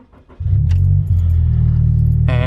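A Scion FR-S engine cranks and catches about half a second in, then settles into a loud, steady, close idle. A brief metallic jingle, like keys, sounds near the end.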